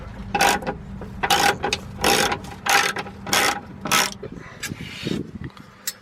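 A ratchet wrench with a 14 mm socket works a bolt on a Nissan S15, giving bursts of rapid close clicking strokes in a regular rhythm, loud and alone.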